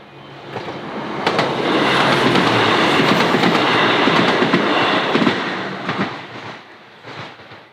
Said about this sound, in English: An actual train.